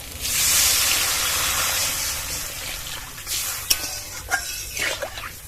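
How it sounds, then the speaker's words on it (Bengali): Water hits a hot pan of frying vegetables and nearly cooked potatoes and bursts into a loud, steady sizzle that gradually settles, with a few clanks of a utensil stirring toward the end. "এবার এর মধ্যে জল দিয়ে দেবো"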